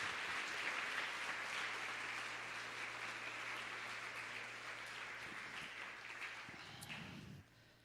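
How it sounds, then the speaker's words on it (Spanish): A church congregation at a Sunday service gives sustained, even applause that swells as a broad wash of many hands, steady for several seconds before tapering off near the end, fairly distant, no clear speech. "Dale un gran aplauso al Señor."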